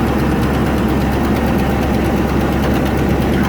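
A 1994 Range Rover engine idles steadily with a low, even rumble and a light rhythmic ticking from the tappets, loud and close with no voices.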